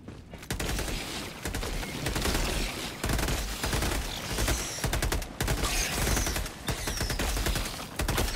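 Sustained rapid gunfire from a Helldivers 2 battle, near and loud, with dense overlapping bursts of shots running almost without pause and brief gaps, mixed with mechanical clatter.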